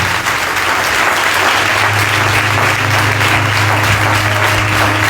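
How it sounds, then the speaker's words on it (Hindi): A church congregation claps loudly during a Hindi sermon on Mother's Day, a thick, sustained wave of applause over a low organ-like hum, steady and close throughout. "मददगार रूहुल कुद्स के लिए जोरदार तालियां दें।"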